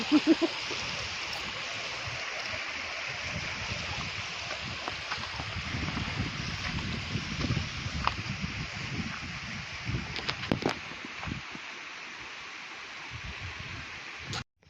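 A village river swollen after monsoon rain rushes and gurgles continuously close by, with a broad steady wash, occasional splashes and brief clicks, running alone without voices until it cuts off at the end.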